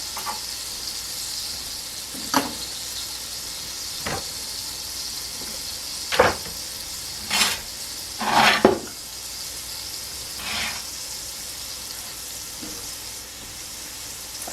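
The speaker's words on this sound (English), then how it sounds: "We're just going to let this saute for just a few minutes." Ingredients for a yellow pear tomato sauce saute in a pan, a soft continuous sizzle broken by several short louder crackles and stirring clatters, with no talking.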